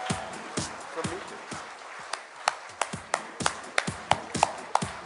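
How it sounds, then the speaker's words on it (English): An audience claps steadily, the individual hand claps sharp and irregular and building slightly toward the end, heard fairly close and alone without talking. "I think you all deserve a huge round of applause"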